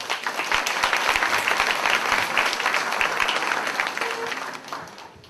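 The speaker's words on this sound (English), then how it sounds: "So if we can give a round of applause to Jack." A school assembly audience claps in a burst of dense, steady applause that gradually fades away toward the end, with no talking over it.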